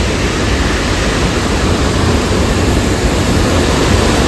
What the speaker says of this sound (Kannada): ನೋಡಿ ಎಷ್ಟು ಫೋರ್ಸ್ ಆಗೈತೆ ನೀರು